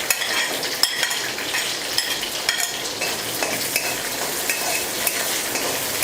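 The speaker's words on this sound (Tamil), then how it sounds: "இந்த சின்ன வெங்காயம் நல்லா ப்ரௌனாக வர அளவுக்கு வதக்கிக்கோங்க." Small onions (shallots) fry in a kadai with oil and curry leaves for kuzhambu, a dense, steady sizzle close up with frequent light stirring scrapes and clinks of a spoon on the pan.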